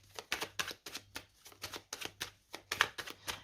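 A tarot deck being cut and riffled, with rapid bursts of card flutter repeating in a brisk, even rhythm, close and fairly quiet, without any voice.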